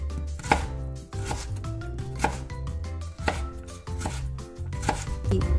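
A knife chops pistachios finely on a board for kesar pista ice cream, with quick, regular, crisp taps repeating close and clear, and no voices.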